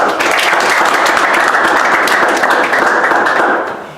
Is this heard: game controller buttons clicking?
no